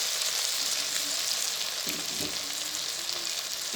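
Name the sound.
garlic and ginger frying in desi ghee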